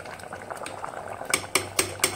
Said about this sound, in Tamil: இப்போ பார்த்தீங்கன்னா கருணக்கிழங்கு குழம்பு நல்லா கொதிச்சு மசால் வாடை எல்லாமே போயிட்டு